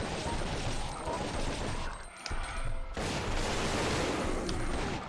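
Gunfire rattles through Biohazard Outbreak File 2 on PS2, a loud, dense burst of game shots that drops out briefly near the middle before resuming.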